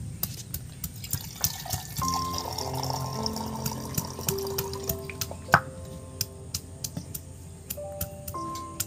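Water poured into a kitchen mixer grinder jar, heard as close, irregular drips and splashes over a few seconds.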